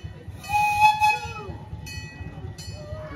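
The Irvine Park Railroad train runs at a Halloween event, a steady rhythmic low rumble of wheels on track with high tonal squeals or a whistle-like tone near the start, moderately close.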